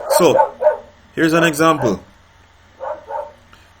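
Pet dogs indoors bark in several sharp, close bursts, with a pair of barks, a longer run, then two quieter ones, while someone talks briefly at the start.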